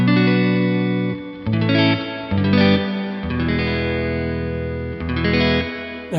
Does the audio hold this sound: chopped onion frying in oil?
no